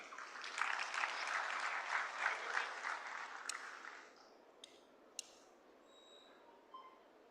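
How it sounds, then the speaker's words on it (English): Applause from a conference audience at an infosec event, fairly faint and distant, lasting about four seconds before fading into room murmur with a few isolated clicks. "Please show some energy and applaud them."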